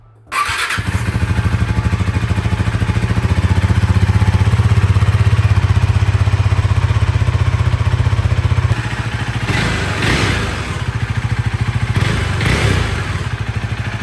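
A Husqvarna Svartpilen motorcycle fitted with a LeoVince slip-on exhaust idles loudly and steadily close by, with a deep rumble throughout and a couple of brief revs near the end.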